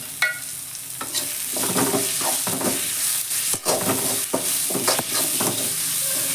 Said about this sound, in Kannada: ಈರುಳ್ಳಿ ಬ್ರೌನ್ ಬಣ್ಣಕ್ಕೆ ಬರೋವರೆಗೂ ಹುರಿಬೇಕು